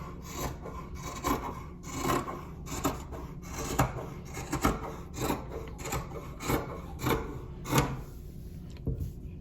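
The waistband of a T-shirt is cut off to make yarn, heard as a close, rhythmic run of about a dozen crisp rasping cuts that repeat evenly and stand alone without speech.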